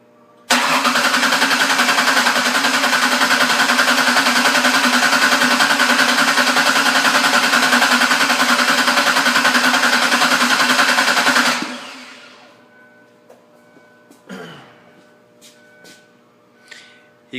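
A car engine, cranked while the power steering system is flushed, roars loud and steady for about eleven seconds, then shuts off abruptly, leaving faint clicks and knocks.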